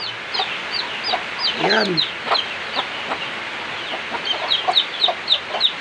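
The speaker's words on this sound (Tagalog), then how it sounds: "At ito nga po pala yung ating labuyo." Red junglefowl (labuyo) chicks make thin, high chirps again and again amid rural outdoor ambience, with one louder lower call partway through and a brief spoken word.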